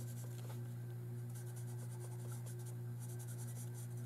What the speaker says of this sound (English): This is a medium colored pencil